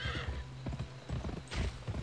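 Horse in the video game Gun gallops with repeated clip-clop hoofbeats and gives a couple of whinnies, steady and fairly loud throughout the short stretch.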